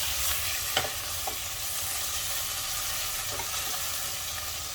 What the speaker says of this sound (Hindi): कटा हुआ टमाटर ऐड करेंगे। मिक्स कर देंगे टमाटर को प्याज में।